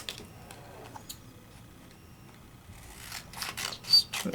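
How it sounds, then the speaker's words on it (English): Scissors trimming foiled card, a few faint snips early, then a quicker run of crisp cuts toward the end, close and quiet with no voices. "Let's trim it down just a little bit"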